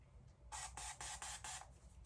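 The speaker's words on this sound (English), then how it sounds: "I spray it in my hand, not on your face" A canned spray hisses into a hand in quick bursts, one short spurt followed by four or five close, bright spritzes with tiny gaps between them, heard near and alone over a quiet room.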